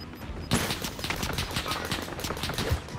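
Video game gunfire erupts abruptly after a quiet start, becoming a dense, rapid burst of shots that continues steadily to the end, fairly close and loud.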